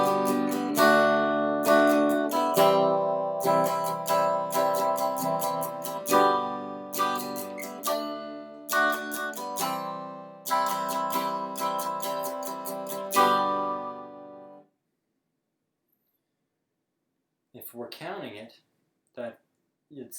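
An acoustic guitar strums a chord pattern at a faster pace, with steady down-up strokes ringing for about fifteen seconds before stopping, followed by a few words of talk.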